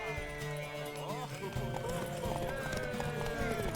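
Horse hooves clip-clopping at a gallop in the game Witcher 3 during a race, steady rapid beats with a whinny, heard under game music and character dialogue.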